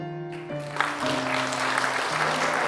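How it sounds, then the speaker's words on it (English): A crowd bursts into applause after a brief musical tone, steady clapping building and holding to the end. "Everyone clapped."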